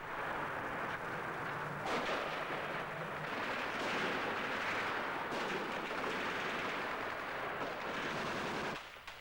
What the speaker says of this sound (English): coming under fire from snipers and returning countless thousands of rounds at the apartments